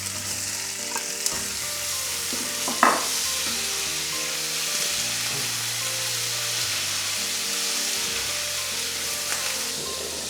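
Prawns sizzle in a hot wok while Pad Thai is stir-fried, a steady loud hiss and crackle throughout, with a few clanks and scrapes of utensils against the pan.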